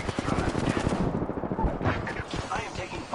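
Rapid machine-gun bursts and scattered gunshots in a PS4 video game, loud and layered, with a short lull midway before the firing resumes.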